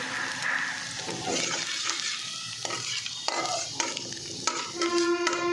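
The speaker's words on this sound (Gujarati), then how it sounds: "પછી તેમાં આપણે બારીક કટ કરેલું લસણ નાખીશું" Finely chopped garlic sizzles in about two spoonfuls of hot oil in a pan over low heat, a steady close crackle with scraping stir strokes and a few sharper clinks toward the end.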